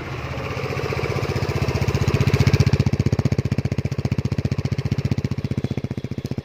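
A 2020 SYM Jet14 scooter engine runs close by, rising briefly in pitch and loudness before settling into a steady, rapid, pulsing putter that continues to the end.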